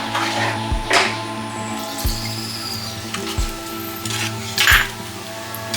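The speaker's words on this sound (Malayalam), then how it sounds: "ഇതിൻ്റെ അകത്തേക്ക് തേങ്ങാപ്പാൽ ആഡ് ചെയ്ത് കൊടുക്കാം ഇതുപോലെ നന്നായിട്ട് ഇളക്കി മിക്സ് ചെയ്യാം" A spoon knocks against a pot while coconut milk is stirred into fenugreek kanji, giving a few spaced, clear clinks over a steady low hum, with no voices.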